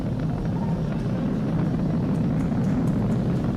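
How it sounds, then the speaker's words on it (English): SpaceX Falcon 9 rocket engines during launch ascent as the vehicle goes supersonic and throttles back up, a dense, continuous low rumbling roar, steady and loud, with no voices. "We've exceeded Mach 1 on the Falcon 9. M1D throttle up. We're throttling back up to full power"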